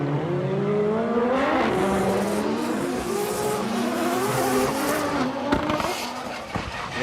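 Drift cars battle at Ebisu Circuit West Course in Fukushima during a Formula Drift Japan top 32 round, engines revving and wailing with rising, falling pitch while tires squeal and skid, loud and sustained, a sharp burst near the end.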